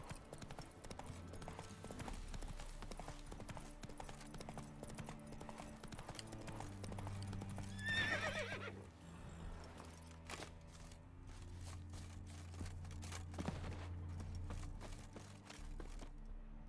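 Roach the horse in The Witcher 3, with steady hooves clip-clopping along at a walking pace under game music and ambience, and a brief whinny midway.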